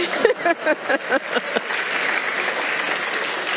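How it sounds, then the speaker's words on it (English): A brief stretch of voice gives way to audience applause at a talk, the clapping swelling into a steady, even wash for the last two seconds. "Okay, we can clap for that."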